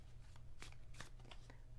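A deck of tarot cards is shuffled by hand, quiet close crisp riffling with several sharp papery bursts over about two seconds.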